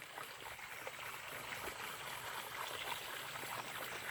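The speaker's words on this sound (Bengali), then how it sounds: "আমি ঝিঙেতে জল দিতে এসেছি।" Water trickles and splashes softly and steadily as ridge gourd plants are watered by hand at night, a faint, even wash with no voices.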